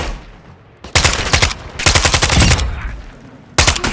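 Automatic weapons fire in Call of Duty Warzone 3 DMZ arrives as three loud, close bursts of rapid shots broken by short quiet gaps, with no talk over them.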